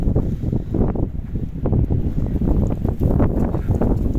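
Strong gusty wind in an open farm field in Ukraine buffets the microphone in a steady low rumble, rising and falling in surges throughout, with no voices.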